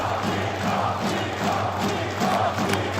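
A large esports arena crowd at a Counter-Strike 2 playoff match keeps up a steady, distant roar and cheer, a dense wash of voices with no single speaker standing out.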